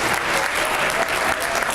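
A school audience of high school freshmen applauds steadily, a dense, continuous wash of many hands clapping at close range with no voices standing out.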